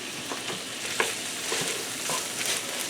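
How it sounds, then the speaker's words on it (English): Diced dill pickles are stirred into a hot pan for chopped cheeseburger sliders: a continuous close frying sizzle with scattered scraping stir strokes and a sharper clank about a third of the way in. "I'm going to stir that in."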